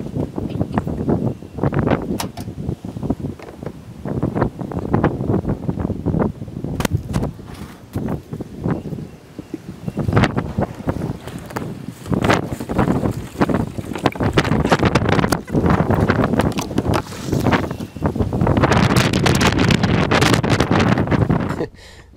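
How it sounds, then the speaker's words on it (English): Strong wind buffets an outdoor microphone near water during a kayak outing in windier than normal conditions, producing loud, continuous rumbling gusts with irregular bursts and no talk. "It's a little windier than normal"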